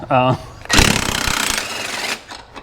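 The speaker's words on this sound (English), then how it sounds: "we're going to use the 1200 foot-pounds of torque Earthquake XT half-inch impact with non-impact rated tools" Short, loud burst of an Earthquake XT half-inch impact wrench rated at 1200 foot-pounds, hammering rapidly for about a second and a half during a Dodge Dart powertrain swap, preceded by a brief voice.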